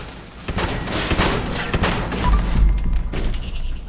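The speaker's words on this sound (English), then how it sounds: "I'm shooting at gutsies." Bursts of gunfire in Fallout 76 aimed at Mister Gutsy robots, sharp repeated shots in uneven volleys with heavy low thumps and impacts, loud and close, with faint game tones in the background.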